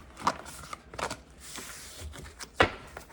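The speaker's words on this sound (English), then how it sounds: "get a good shuffle." Tarot cards being shuffled in a few quick riffling bursts, close and fairly soft, with short pauses between them and no talking.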